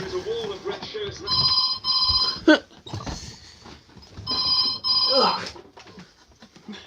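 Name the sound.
telephone ringing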